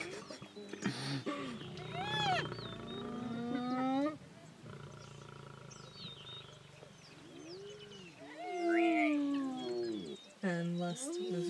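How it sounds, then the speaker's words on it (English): Hyenas squeal near a lion in the wild, a string of loud, rising and falling whoops and squeals, some overlapping, with a quieter lull in the middle before another burst of shrill cries. "There's some squealing going on. A lot of squealing."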